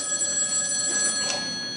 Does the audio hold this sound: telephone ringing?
yes